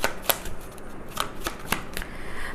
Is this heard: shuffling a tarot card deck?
yes